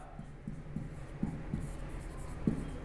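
Chalk or a marker writes on a board with short, scratchy strokes, about half a dozen soft taps and squeaks spaced unevenly, close but fairly quiet against faint room noise.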